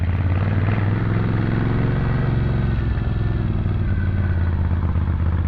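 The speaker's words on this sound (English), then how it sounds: "As is the sound of this bike." A motorcycle engine drones steadily while riding near a cathedral by Arundel Castle, a loud, close, continuous low rumble with a slight clattering texture and no pauses.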